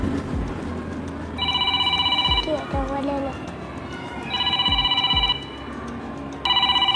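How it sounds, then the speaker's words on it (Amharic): An old landline home telephone rings in repeated electronic double bursts, with pauses between rings, fairly loud and close, while a low voice murmurs briefly in the background. "ስልኩ እየጠራ"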